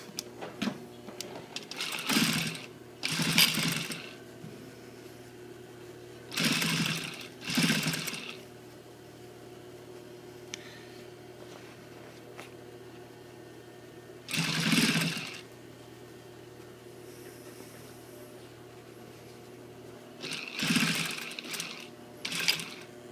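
A sewing machine top-stitches a front zipper fly on a pair of pants, running in several loud bursts of rapid whirring stitching separated by quiet pauses, with no talking.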